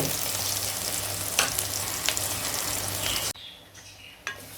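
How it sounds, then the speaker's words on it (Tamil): Onions frying in sesame oil for a drumstick fish curry give a steady, close sizzle with a few sharp stirring clicks, dropping suddenly quieter near the end. "நல்லெண்ணெய் ஊற்றிருக்கேன் நான். வெங்காயம் வேகணும்."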